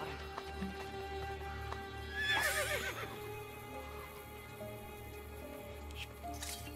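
A horse in Assassin's Creed: Brotherhood gives a rising, warbling whinny partway through, over steady clip-clop hooves and a constant low game-ambience hum, with a second brief whinny near the end.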